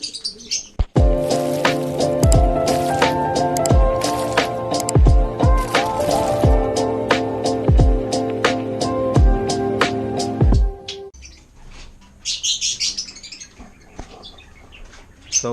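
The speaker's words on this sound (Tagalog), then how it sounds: "mga nest box ng mga alaga nating African lovebirds" Pet African lovebirds at their nest boxes give a rapid series of sharp, loud chirps and squeaks up close, then fall quieter before a few softer high calls near the end.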